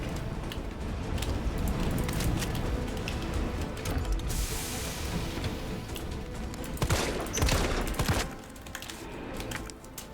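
Rapid bursts of gunfire crackle at a fuel tank in Resident Evil 3, a sustained volley of close shots with a brief hissing spray in the middle and a louder cluster of blasts toward the end.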